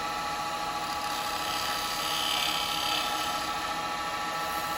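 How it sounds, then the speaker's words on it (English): Spindle gouge cleaning up the edge of a natural-edge cherry bowl on a wood lathe, a steady continuous cutting hiss with motor hum, fairly even throughout with no talking. "with my spindle, I'm just going to clean up that edge"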